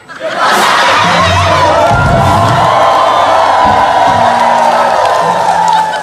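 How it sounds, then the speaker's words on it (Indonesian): A loud comedy show audience cheering and shouting together, with whoops and clapping mixed in, sustained for several seconds. "Terima kasih untuk tepuk tangannya."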